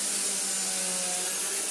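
A Tineco Carpet One Pro carpet cleaner runs on a rug, giving a loud, steady motor whine and airflow hiss with no break and no voices.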